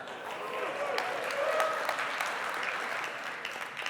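Keynote audience applauding at a tech conference, a dense steady wash of many hands clapping that holds for several seconds at moderate distance, with faint voices underneath.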